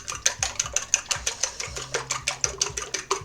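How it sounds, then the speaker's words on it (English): Eggs beaten in a bowl for French-style scrambled eggs: quick rhythmic clinks of a utensil against the bowl, roughly five strokes a second, close and steady with no talking. "And beat up the eggs."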